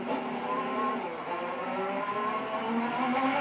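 Formula 1 cars race at the United States Grand Prix, a dense, continuous engine whine with layered tonal harmonics shifting in pitch, steady and fairly loud with no pauses.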